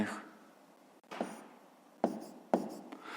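Pen strokes scratch across paper while numbers are written out for a fifth-grade maths exercise: a few short, quiet scribbling bursts separated by pauses.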